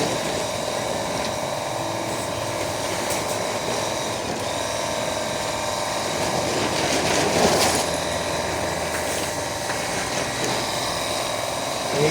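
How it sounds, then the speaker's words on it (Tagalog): Portable pressure car washer drawing water from a bucket through its hose, a steady mechanical whir and rattling buzz running continuously and fairly close, with no talking. "Ihigop niya pa yung tubig."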